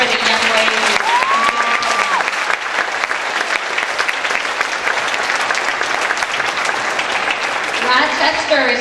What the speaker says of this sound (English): Give another round of applause for the young ladies.